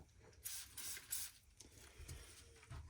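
Several quiet hissing bursts from a spray bottle misting a cake in quick succession, soft and close, with a few faint bumps between them.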